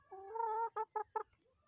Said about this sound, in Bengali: দুটো মুরগি আছে যে ডিম দেয়, এই যে রোজ ডিম পাড়ে দুটো মুরগি।